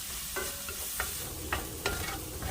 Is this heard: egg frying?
yes